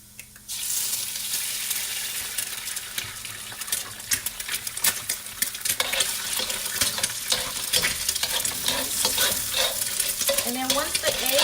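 A cracked egg fries in a hot pan for fried pho noodles, bursting into a loud, crackling sizzle that stays steady with sharp pops and spatters throughout.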